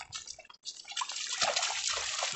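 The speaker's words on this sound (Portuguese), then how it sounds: "Tá correndo muita água aqui no terreiro da casa." Rainwater from a summer downpour rushes across a house's dirt yard in a Bahia village, fed by an overflowing small spring, making a continuous broad splashing and trickling that swells after a brief lull.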